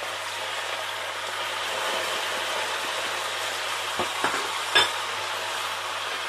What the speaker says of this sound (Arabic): غندير نصف الكميه ديال البصله، نخليها تقلى معاه